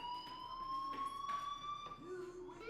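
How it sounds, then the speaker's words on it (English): A fire alarm rings in the video game Life Is Strange as a steady, fairly faint electronic tone, with a brief voice rising under it near the end. "do you hear that fire alarm?"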